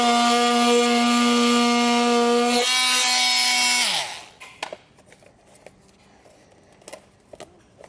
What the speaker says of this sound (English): I'm going to cut it using a multi-tool